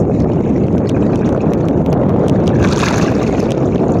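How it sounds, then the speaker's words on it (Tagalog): Loud, constant drone of a boat motor running, with rushing wind noise buffeting the microphone and no talking. "Ayos yung motor guys."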